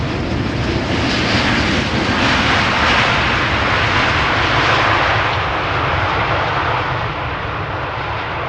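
A long-haul airliner arriving at Amsterdam Schiphol from Sao Paulo, a loud, sustained jet engine roar close by that swells and then slowly eases, with no talking.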